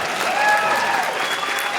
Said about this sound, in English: Everyone clap for yourself.